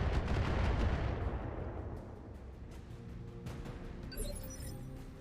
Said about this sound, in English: Okay, these are some really annoying turrets. Oh, they're all indirect. Again, more mortars.